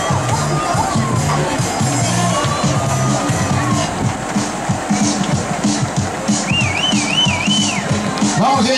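A lively crowd at the finish line of a 6 km running race in Ourense claps and cheers for arriving runners, with shouting children and a whistle cutting through the steady, close crowd noise.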